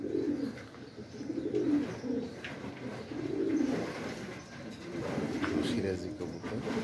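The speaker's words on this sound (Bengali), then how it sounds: "সিরাজি কবুতর, অনেক বড় হয় কবুতরগুলো।" Sirazi pigeons on a pigeon farm coo in soft repeated rounds, close and moderately loud, with a person talking intermittently over them.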